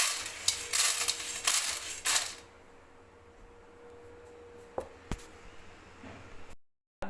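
Dried lentils being stirred together in a bowl give a dense, granular rattle and clatter for about two seconds, then fade to near silence, with a couple of sharp clicks toward the end.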